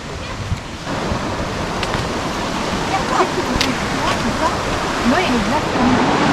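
Rushing water from a waterfall in a European beauty spot, a loud continuous broadband roar with wind buffeting the microphone and people talking faintly over it.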